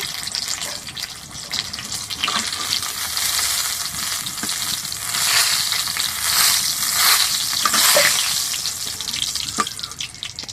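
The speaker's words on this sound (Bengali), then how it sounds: "খেতে মন চাই ভাজা হয়ে গেছে তুলে নিচ্ছি" Slices of spiny gourd (kakrol) fry in hot oil with a dense, steady sizzle and crackle that swells slightly midway, close and continuous with no talking.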